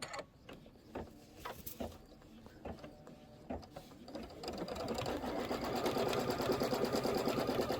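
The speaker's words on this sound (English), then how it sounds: "I'll let go of the start stop so now it can stitch up full speed" Sewing machine stitching quilt borders, first a series of separate short mechanical bursts, then a continuous fast whirring run at full speed, close and steady.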